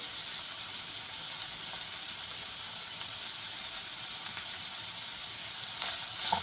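Tomatoes for paneer bhurji fry in a pan with a steady, even sizzle and occasional faint stirring scrapes, close by and without talk.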